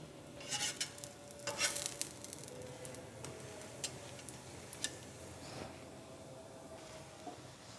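A sweet corn roti fries in desi ghee on a griddle, giving a faint steady sizzle with scattered soft ticks and a few brief scraping bursts near the start, no voices.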